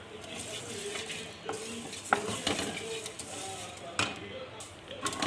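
Coriander, fennel and nigella seeds dry roasting in a kadhai give a faint sizzle with scattered crackles and the scrape of a spoon stirring against the pan, close but quiet.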